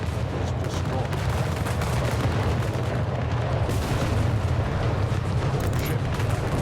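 Naval cannon fire and ship explosions from a battle in the strategy game Anno 1800, a dense, continuous rumble of booms and gunfire with no clear gaps, loud and sustained throughout.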